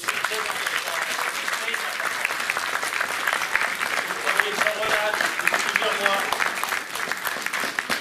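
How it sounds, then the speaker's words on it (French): Steady applause from an audience at a pétanque tournament in Paris, dense continuous clapping holding at an even level throughout with faint voices mixed in. "J'attends vos applaudissements, s'il vous plaît."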